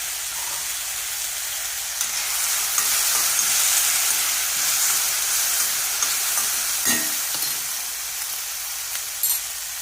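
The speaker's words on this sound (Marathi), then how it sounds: "आता कांदा चांगला भाजला गेला." Spring onion sizzles steadily in a hot pan while a besan sabji cooks, with a constant close frying hiss and a few soft stirring scrapes.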